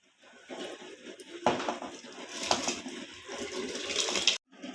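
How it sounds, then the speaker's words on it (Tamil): Rice goes into vigorously boiling water in a pressure cooker while chicken dum biryani is being made. A close, busy bubbling and splashing starts after a short pause and breaks off abruptly near the end. "தண்ணி நல்லா கொதிக்குது அரிசி போட்டுக்கலாம்"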